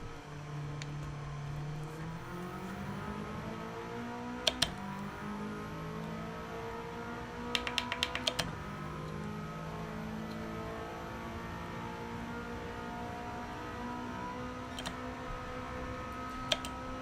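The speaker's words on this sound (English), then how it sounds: "Gotta love the sound of the Impreza," Subaru Impreza boxer engine in the Gran Turismo 7 racing game, revving continuously with rising and falling pitch through gear shifts, punctuated by a few sharp ticking clicks, no talking.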